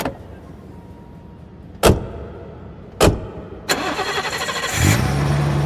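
A BMW parked in a station car park: two sharp door-like thuds, then the engine cranks and catches, settling into a steady, fairly close running hum.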